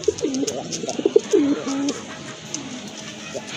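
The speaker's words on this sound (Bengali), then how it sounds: "আরেক জোড়া কবুতর, এটাও কিন্তু অনেক বড় সাইজের কবুতর" Desi pigeons coo close by in a few soft, rolling phrases during the first two seconds, with a quieter coo near the end over a faint ambient background.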